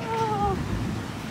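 A cat meows once with a clear, drawn-out tonal cry, close and moderately loud over a noisy outdoor background with rumbling low sounds, followed by ambient noise.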